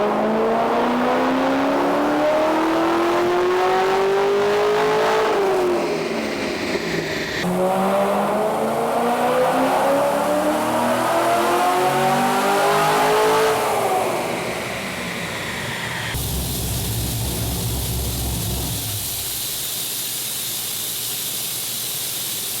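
A loud, throaty modified Corvette V8 with reworked heads, cam and headers revs up repeatedly, pitch climbing in long sweeps, then drops back to a rumbling idle near the end.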